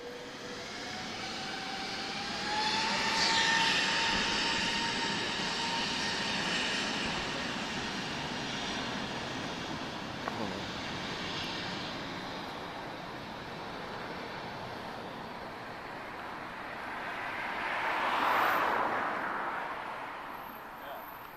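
Airliner with two CFM LEAP-1A jet engines at Lisbon Airport, a broad roar that swells near the start and again toward the end, heard from a distance with steady wind-like background.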